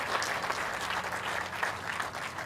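Steady applause from a crowd at an elementary school ribbon-cutting ceremony, honoring a high school marching band, continuous clapping at an even, fairly loud level without any break.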